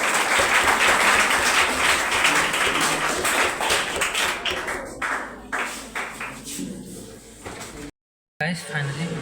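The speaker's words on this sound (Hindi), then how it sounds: "सर के लिए एक बार ताली बजा दीजिए अपना।" Audience at a fire safety session claps for the teacher, a dense burst of applause that thins into scattered individual claps, briefly cut off near the end before murmuring resumes.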